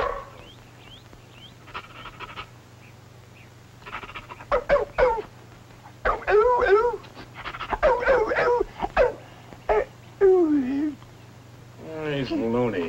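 A dog pants and whimpers close by in short, uneven bursts of breathy huffs and high whines, set against a steady hum from an old film soundtrack.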